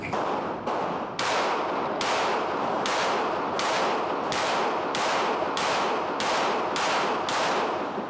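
Heckler & Koch VP9 pistol shots at a range, about a dozen sharp, loud reports in a fairly even rhythm, each trailing off in a short echo, no talking.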